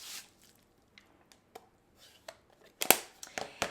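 Dry crinkly scraping and soft taps as an ink blending tool is raked across bubble wrap, a few faint strokes building to louder, closer crackly swipes near the end.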